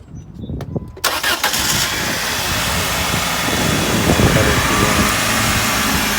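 A 2001 Saturn S-series car engine cranks and catches after a second of rustling, then settles into a loud, steady close-up idle.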